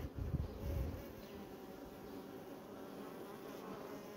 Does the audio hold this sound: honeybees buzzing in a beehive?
yes